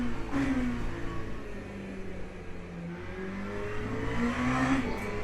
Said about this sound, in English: Almost sounds like a constant airflow inside the car.